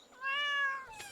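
A cat meows once in the Stardew Valley farming game, a single clear drawn-out meow, close and fairly quiet, alone without any talk.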